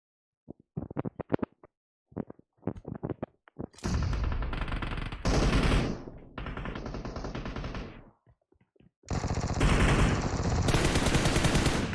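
Gunfire from a mobile shooter video game starts with scattered single shots, then turns into long loud automatic bursts with brief pauses between them, dense and close.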